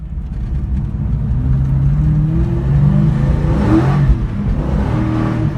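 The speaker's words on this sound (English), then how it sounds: "As you can see, it just wants to spin the back tires." A 2000 Mustang SVT Cobra R revs hard with its rear tires spinning, a steady loud engine roar with rising and falling pitch close by, no talk.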